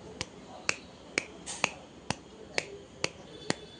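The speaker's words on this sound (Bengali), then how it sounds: "হাততালিটা দিতে হবে ঠিক এইভাবে, দেখুন" Eight sharp single hand claps at a steady, even rhythm, each crisp and close, spaced about half a second apart in a quiet room.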